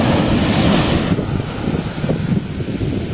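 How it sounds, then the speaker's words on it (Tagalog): Ocean waves washing in over feet on a beach, a loud rushing surge that fades into softer foamy swash, with wind buffeting the microphone. "Niabot ag bawod sa tiil."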